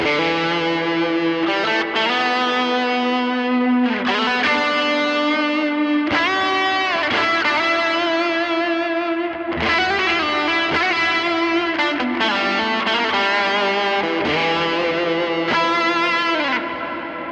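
Electric guitar played through a Line 6 Helix with distortion and reverb, strummed chords and sustained notes ringing out loud and continuous, with brief gaps between phrases.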